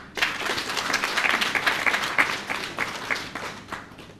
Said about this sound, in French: je voudrais encore une fois vous demander d'applaudir nos honorables députés